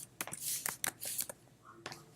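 Typing on a computer keyboard to enter a bleed value in a document setup, several quick, crisp key taps in short clusters with a pause between them, close and fairly quiet.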